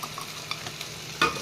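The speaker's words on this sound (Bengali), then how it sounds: "পেঁয়াজ আর বেগুন একসাথে খুব সুন্দর করে ভাজা হয়ে গেছে" Long-cut eggplant and onion, coated with salt and turmeric, sizzle softly in a pan while a spatula stirs them, ending with two sharper scraping strokes.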